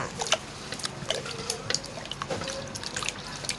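Clean water poured and trickling into a pot of soaking sticky rice, a steady wet splashing with scattered drips, fairly soft and with no voices.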